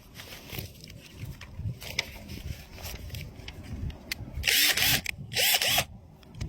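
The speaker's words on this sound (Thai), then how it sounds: "สว่านที่ใช้ ในวันนี้ก็เป็นของอิงโกครับ" A power drill whirs in two short bursts near the end, loud and close, after a stretch of quieter background noise, during repair of a leaking corrugated tile roof.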